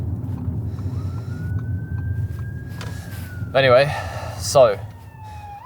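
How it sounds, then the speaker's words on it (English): An ambulance siren wails in rising and falling sweeps as it passes a moving car, heard from inside the vehicle over road rumble, with someone talking briefly. "But there's an ambulance, better get out of the way."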